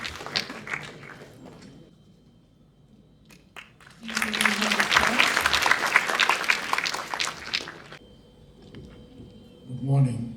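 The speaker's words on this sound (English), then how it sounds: "Please give her a huge round of applause" Audience applause at a university white coat ceremony, a burst of crowd clapping in the middle lasting several seconds, bracketed by quieter stretches with brief sounds and a voice at the end.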